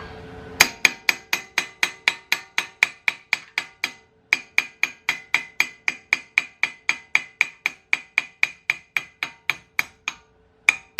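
A hammer strikes a Honda Accord axle, loosened with WD-40, in a long run of sharp metallic blows at a steady rhythm, with one brief pause partway through and no talking.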